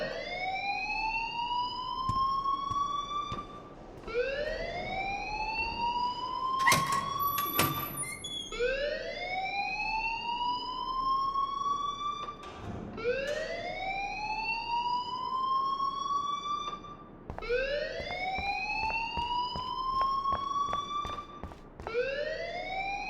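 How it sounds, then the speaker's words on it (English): Game fire alarm from Life is Strange wailing in repeated rising sweeps, each about four seconds long, loud and continuous with brief clanks and knocks among them. "please turn off that alarm since that's your job"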